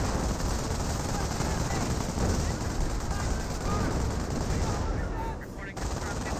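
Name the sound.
25 pounder gun firing in Company of Heroes video game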